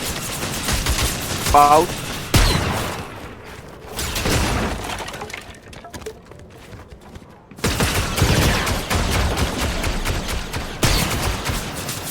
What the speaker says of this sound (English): there are people shooting